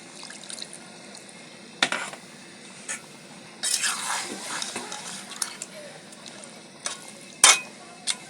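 Chicken meat sizzles and hisses in a pan as a little water is poured in, flaring into a louder burst of steam midway among spoon stirring and clinks of cookware. Close and fairly quiet, with no talking.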